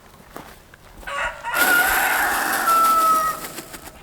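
A rooster lets out a long, loud crow that rises and holds, with faint clucking and farmyard noise before and after.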